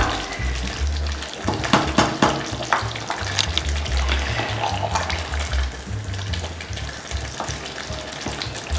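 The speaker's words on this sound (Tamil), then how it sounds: "பாருங்க நல்லா உங்களுக்கு கொதி வருது." Water for chicken biryani bubbling at a rolling boil in a pot, a continuous close bubbling and sizzling churn with occasional stirring clinks, no voices over it.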